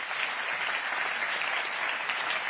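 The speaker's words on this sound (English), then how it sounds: "Give him a big applause" An audience at a sport-tech expo applauds a presenter on stage, a dense, steady wash of clapping hands filling the room for a couple of seconds.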